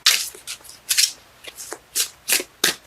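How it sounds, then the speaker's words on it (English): Tarot cards are shuffled by hand, giving a rapid series of crisp, papery riffles and flicks in short bursts about every half second, close and clear with no voices. "Cards let me know when they're done shuffling."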